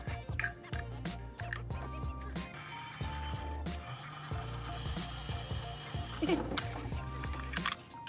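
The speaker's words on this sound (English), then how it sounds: "now let's go test the elevator" A homemade electronic toy elevator lift runs with whirring, ratcheting gear clicks and small mechanical knocks at close range, with a voice heard briefly alongside it.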